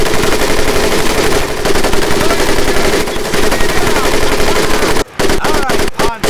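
M1919A4 .30 caliber machine gun in Medal of Honor Pacific Assault, firing sustained loud rapid bursts at close range, with short pauses and a few separate shots near the end.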